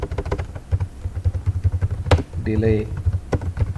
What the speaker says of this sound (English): And I'll type flights